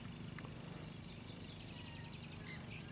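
Soft, steady purring from a cat out in a hot vegetable garden of sunflowers and corn, very faint and continuous, with no voices.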